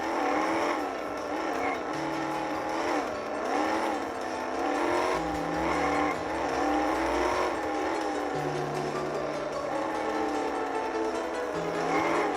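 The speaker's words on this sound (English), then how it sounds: "Wow, it's just drifting and all that." Video game car drifting with engine revving and tire squeal, swelling and falling in repeated sweeps at steady loudness, with someone talking over it.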